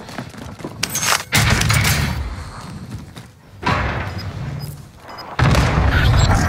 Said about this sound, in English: Watch the airstrike